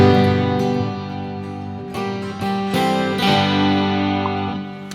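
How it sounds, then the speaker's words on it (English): Acoustic guitar tone from a piezo pickup layered over a sustained sampled 12-string, giving a dense, ringing chordal wash with a few bright strums and plucked accents, steady and close throughout. "And then I'm going to add the acoustic sound from the piezo pickup."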